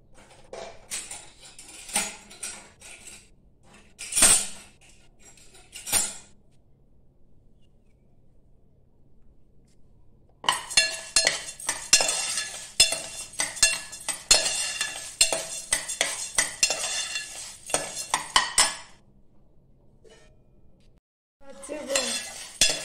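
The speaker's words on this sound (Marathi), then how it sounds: "तो पहिल्यांदा भाजून घ्यायचा गॅसवर" Whole masoor lentils dry roast in a pan on a gas stove, with a spoon stirring and scraping at close range, clinking against the metal pan in sparse taps and then a long dense rattling stretch.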